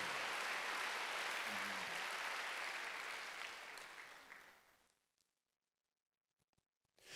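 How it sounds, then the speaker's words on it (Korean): A church congregation at a Wednesday worship service applauds, a steady broadband clatter of many hands that holds for about four seconds, then fades out and stops, leaving near silence with a few faint knocks. "박수 한번 주세요"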